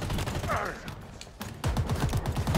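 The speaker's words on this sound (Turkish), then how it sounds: "Aha da şöyle yere doğru sıkayım da bari vursun biraz." Gunfire in Halo Infinite sprayed at the ground, a brief early burst, then a dense rapid run of automatic shots, loud and close, with speech mixed in.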